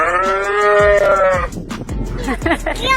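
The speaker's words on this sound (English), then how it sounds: "I think these are lambs or baby sheep" Young lambs on a farm bleat loudly and close by, one long wavering cry followed by shorter calls, with people talking softly alongside.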